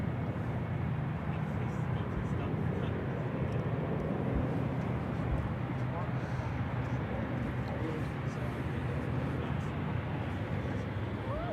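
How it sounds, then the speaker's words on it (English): Air France airliner taxiing out at San Francisco International Airport on its way to Paris, a steady low jet-engine rumble that holds at an even level throughout, with no voices. "Air France 84 now they're taxiing out. Headed to Paris Charles de Gaulle, headed behind the blast fence now."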